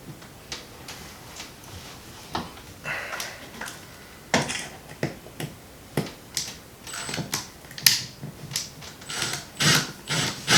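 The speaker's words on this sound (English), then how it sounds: "And then we're going to screw it right to the stud" A screw is driven through a recessed light's hard plate into a wooden stud, giving irregular clicks and short ratcheting grinds in quick bursts, close and moderately loud, with no talking.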